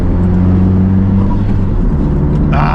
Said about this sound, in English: Ah, I love the blow valve.